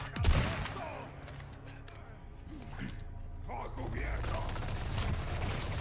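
Enemy gunfire in the Resident Evil 4 remake video game, with a sharp close shot at the start followed by mechanical clatter and rattling, mixed with a voice and game sounds at moderate level.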